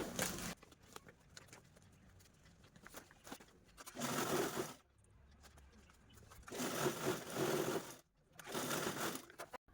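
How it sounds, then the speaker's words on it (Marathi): A sewing machine stitches the corners of an old gown in short bursts, whirring loudly for a second or so, then pausing quietly before starting again. "चारही कॉर्नर आपण सेम अशाच पद्धतीने स्टिच करून घेणार आहोत"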